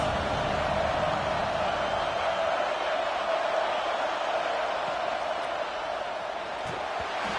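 Stadium crowd at an Auburn vs Alabama college football game, a steady distant roar of many voices that holds throughout at an even level, with faint commentary underneath.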